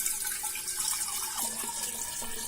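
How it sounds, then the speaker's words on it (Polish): Water poured into a large container of over four litres, filled about halfway to dissolve borax for homemade laundry liquid; a steady, close splashing stream runs throughout with brief drips and gurgles. "albo mniej wlewam wodę po to, żeby rozpuścić w tym boraks"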